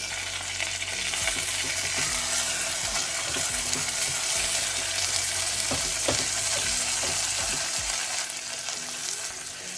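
Onion frying in a pan for a meatball tajine, a steady broadband sizzle with occasional clinks and scrapes of stirring, close and continuous with no talk.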